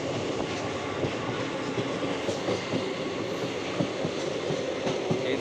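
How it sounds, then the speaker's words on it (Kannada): A passenger train leaving Dharwad for Mumbai rumbles steadily from inside a carriage, wheels clattering over the rails in an even rhythm with faint squeals, and no voices are heard. "ಟ್ರೈನ್ ಹೊರಡ್ತು ಧಾರವಾಡದಿಂದ"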